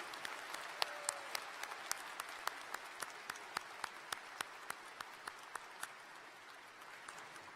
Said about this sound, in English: Let's have a round of applause for Beth.